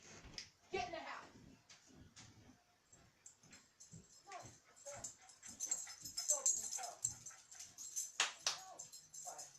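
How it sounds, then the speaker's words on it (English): A dog whimpers and yips outdoors through the clip, its noises coming in short repeated bursts at moderate loudness, with a voice and other speech heard over it. "My dog was making too much noise outside."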